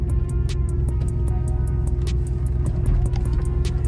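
A 2001 Chevrolet S10 Blazer ZR2 4x4 drives through a neighborhood, its engine a loud, steady close rumble from start to finish without talk.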